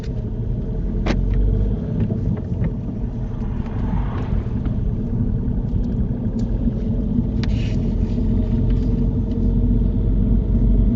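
A car's engine rumbles steadily up close as it pulls away from the curb during a UK mock driving test, a continuous low drone with faint clicks and no talk.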